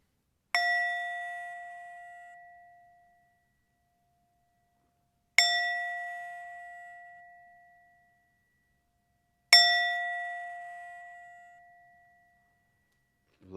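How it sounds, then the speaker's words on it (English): Three clear metal chime strikes open a qigong class, each spaced about four seconds apart and ringing out bright and pure before slowly decaying into silence. "tuning into the sound of this chime"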